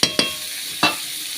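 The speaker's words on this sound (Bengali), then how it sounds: "তো চলো আমি ফুলকপিগুলো ভেজে নিচ্ছি," Cauliflower pieces fry in a pan of hot oil, giving a steady close sizzle broken by three sharp clatters of stirring or tossing.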